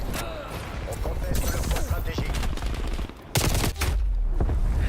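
Rapid gunfire in the shooter Black Ops Cold War, dense bursts of shots crackling almost continuously, with voices talking over the action.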